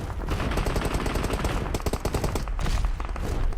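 Automatic gunfire bursts out in PUBG Mobile, a dense, rapid rattle of shots lasting the whole stretch, loud and close, with brief pauses between volleys and no voices over it.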